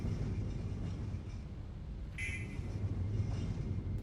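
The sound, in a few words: train running in video game Threshold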